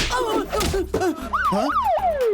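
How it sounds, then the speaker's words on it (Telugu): A siren wails with rising and falling sweeps over a rumbling engine, loud and close, with some muffled voices mixed in, at an airport. "ఇదేంట్రా సైరన్?"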